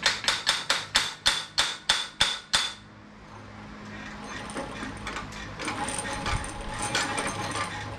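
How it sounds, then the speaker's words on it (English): Furniture hammer striking a go-kart part, about nine evenly spaced, sharp metallic blows close by, followed by a quieter stretch of clattering and mechanical rattling. "Furniture hammer to the rescue."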